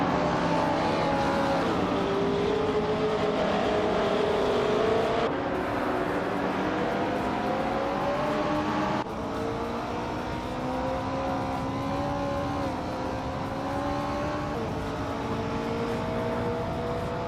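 Racing cars in a video game led by a vintage 1966 Porsche 906, a continuous loud engine drone with rising and falling revs through gear changes, no talking.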